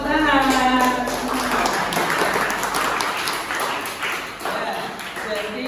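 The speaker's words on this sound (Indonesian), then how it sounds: "tepuk tangan untuk kelompok 2" A group in a classroom claps for a team of students, a dense wash of hand claps that starts at once and carries on through the whole clip over a faint background.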